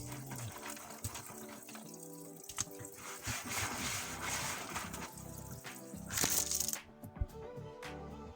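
Water spills and trickles from an overflowing black bucket into buckets below, a quiet steady splashing with scattered drips and small knocks, closer and louder toward the end before it thins out.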